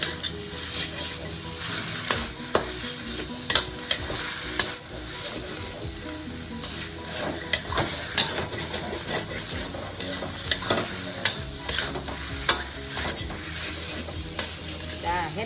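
Shiitake mushrooms stir-fried in a pan for a spring roll filling: a steady, loud sizzle runs throughout, broken by frequent scraping and clacking strokes of a spatula against the pan.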